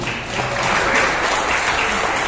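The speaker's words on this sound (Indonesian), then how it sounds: "Tepuk tangan untuk keduanya" Hall audience applauding two people at a regional youth organisation assembly, dense continuous clapping filling the room at moderate loudness.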